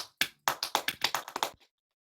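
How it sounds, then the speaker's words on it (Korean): Audience at a live talk show with a Gypsy music band claps about nine times in a quick, steady rhythm, each clap crisp and close, before the sound cuts to silence. "박수 부탁드릴게요."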